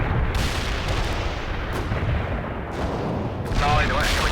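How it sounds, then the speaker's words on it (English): Continuous rumbling artillery barrage in the video game World in Conflict, dense low booms and crackling blasts filling the whole stretch at steady loudness, with a few sharper bursts toward the end. "Launching a barrage."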